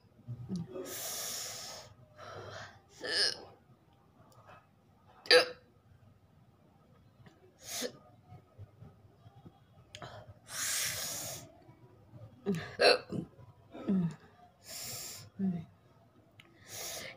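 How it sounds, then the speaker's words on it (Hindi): Repeated hiccups from a woman doing a hiccup challenge without water, sharp irregular bursts with breathy gasps and snorts between them, close and fairly loud. "आप देखते हैं हिचकी मेरे कब तक आती है।"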